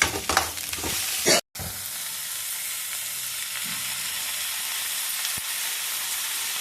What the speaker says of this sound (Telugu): పోపు వేసుకుంటున్నారండి